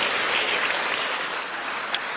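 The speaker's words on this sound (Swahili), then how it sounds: "Tuwape makofi mengi sana sana" Audience applause for work-experience trainees standing up at a SADC employment-sector ministers' meeting; sustained, even clapping from a large hall throughout, with a single sharp clap near the end.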